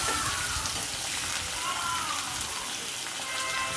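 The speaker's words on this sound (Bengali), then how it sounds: "এই তো দেখুন মাছগুলো ভাজা হচ্ছে।" Prawns sizzle and spit in hot oil in a pan, a steady close crackling hiss with occasional sharper pops running throughout.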